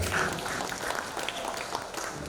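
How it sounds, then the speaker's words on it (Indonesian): Audience applause for a woman at a Bank Sumsel Babel gathering, a steady broadband wash of clapping filling the whole stretch without a break, fairly loud and even throughout. "tepuk tangan untuk Bu Rira."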